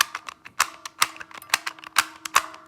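Quick clicky turns of a DaYan TengYun 2x2 magnetic puzzle cube, with sharp plastic clacks and snaps in an uneven rapid rhythm, close and fairly loud with no talking.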